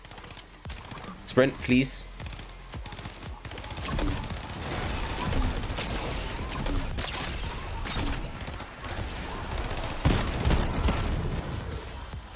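Scattered gunfire from a fight in the Fortnite video game, sharp bursts and single shots at mid distance, mixed with game ambience and a brief spoken line.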